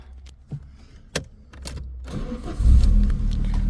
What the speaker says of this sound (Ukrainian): Зараз відкрию під капоточку, сразу заведемо.